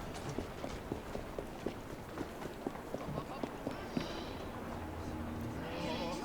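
Rapid clip-clop of a galloping horse in Assassin's Creed Syndicate, evenly spaced hoofbeats over a busy background with talking, ending with a brief whinny-like swell.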